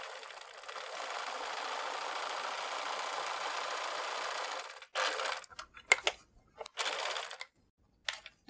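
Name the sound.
sewing machine zigzag stitching fabric pieces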